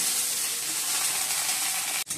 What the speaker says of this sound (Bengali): ঢ্যাঁড়সটাও ভাজছি এখন